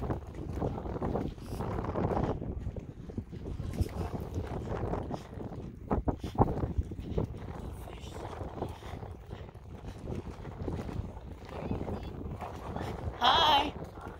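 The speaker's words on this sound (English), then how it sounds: "The wind is blowing hard." Hard wind buffets a microphone outdoors on the Texas coast near Palacios, a rough, gusty roar that swells and fades throughout, with a voice talking faintly beneath it.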